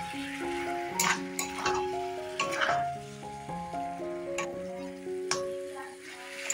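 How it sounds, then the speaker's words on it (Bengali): Mutton curry being stirred in a pot as the meat browns, with sizzling and scraping from the spoon under steady background music. "আবার এটাকে ভালো করে নেড়ে দিচ্ছি"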